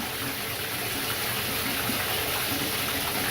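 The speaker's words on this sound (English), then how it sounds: "I'm gonna go ahead and run it and see if you can at least keep up with the flow of the water" Water runs steadily into and down a bathtub drain just cleared by plunging, a continuous close-up gushing rush with no pauses.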